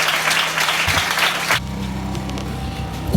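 Congregation applauding during an ordination service, steady broad clapping for about a second and a half before it drops to a lower murmur with lingering scattered claps.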